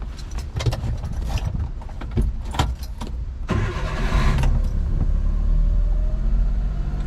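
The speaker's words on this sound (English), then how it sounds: "All right, so let's start the truck. This is a cold start." A 1995 Suzuki Carry kei truck cold-started after sitting overnight: keys jangle, the starter cranks briefly, then the small engine catches and settles into a steady close idle rumble.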